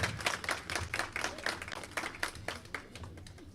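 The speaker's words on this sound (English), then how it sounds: "Ladies and gentlemen, give him a round of applause," An audience at a live gospel performance breaks into applause, a dense patter of many hands clapping at once, steady and fairly close, slowly easing in strength.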